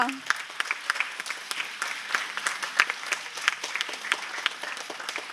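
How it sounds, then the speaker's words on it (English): An event crowd applauds after a call to cheer India's G20 presidency, lively uneven clapping with sharp individual claps standing out, steady for about five seconds. "So please give a huge round of applause for India."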